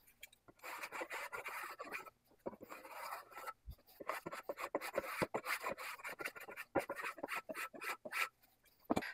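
A hand tool rasps along a wooden oar shaft in repeated scraping swipes, quiet and close, with short pauses between strokes.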